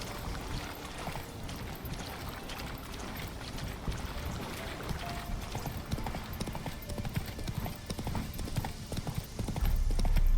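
Roach, Geralt's horse in The Witcher 3: Wild Hunt, trots with steady, close hoof clip-clops in an even rhythm throughout.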